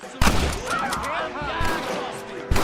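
Gunfire in the Western game Red Dead Redemption: a sharp shot opens the sequence, a second lands near the end, and a voice talks loudly between them.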